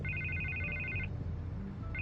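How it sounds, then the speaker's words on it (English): Telephone ringing in Batman: The Telltale Series, a steady electronic trill of repeated high rings for about a second, a pause, then the ringing starting again over a low background hum. "I can't get the phone to stop ringing."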